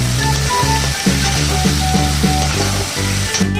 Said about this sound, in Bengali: আমার পেঁয়াজ কলি আর পেঁয়াজ ভালোভাবে সাঁতলে নেওয়া কমপ্লিট।